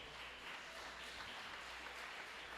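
A church congregation applauds during a worship service, a steady wash of clapping that sounds faint and somewhat distant, with no talk over it.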